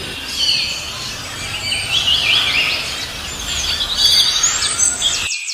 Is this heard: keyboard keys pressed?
no